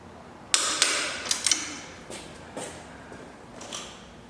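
A torque wrench tightens a frame slider post bolt on a Yamaha R3 motorcycle, giving a few sharp close metallic clicks in quick succession, then softer scraping and turning noises.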